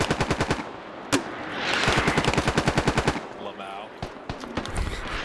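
Rapid bursts of automatic gunfire in the tactical shooter Squad, sharp repeated shots in several volleys, some close and loud, with a steadier rattling stretch in the middle and scattered single cracks near the end.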